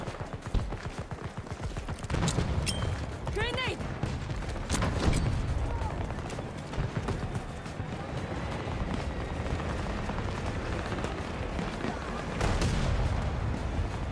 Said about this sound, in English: Oh, that's the tank.